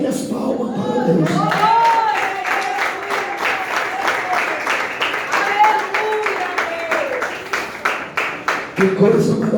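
A church congregation claps hands together in worship, the applause full and steady at first, then settling into rhythmic beats toward the end, with voices speaking and calling out over it.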